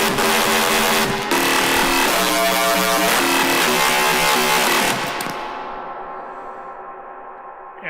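Dark techno synth built in Ableton from a wavetable patch pushed through a saturator, a loud, gritty, buzzing tone with dense distorted harmonics and a wavering up-and-down pitch, cutting off abruptly around five seconds into a dimmer, thinner tail.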